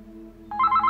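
A portable GSM optical alarm places an incoming call, and a phone begins ringing halfway through with a repeating electronic trill over a low steady hum, clear and close.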